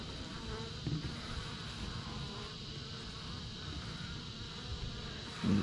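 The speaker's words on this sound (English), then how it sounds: "There's a yellow jacket" A yellow jacket wasp buzzes close by, a continuous droning hum that swells louder as it passes near at the start and again at the end, with no speech.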